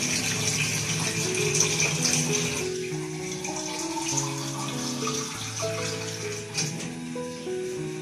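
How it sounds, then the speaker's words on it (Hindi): Water runs and splashes steadily for several seconds, a glass of water poured into a pot on a stove, continuous pouring gush with faint clinks, no voices over it. "मैं इसके अंदर 1 गिलास पानी का डाल दूं।"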